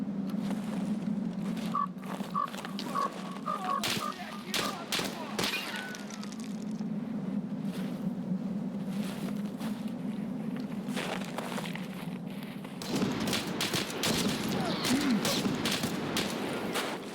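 Gunfire in Escape from Tarkov on the Streets map, a series of sharp shots in bursts over steady low rumbling ambience, moderately close, with scattered cracks through the middle and a busier stretch near the end.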